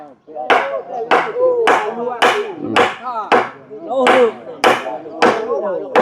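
Villagers pound a new wooden house post into place, producing about ten heavy, evenly spaced thuds roughly every half second, loud and close.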